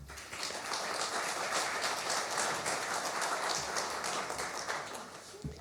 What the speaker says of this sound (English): can we please give another round of applause, Honorable Minister Nyhontso